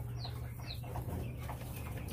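Ducks on a homestead making soft, close quacking and cooing calls, a few short chirpy notes over a low steady background hum, with no talking.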